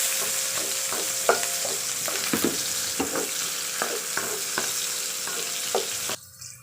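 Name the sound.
onion sautéing with garlic in a pan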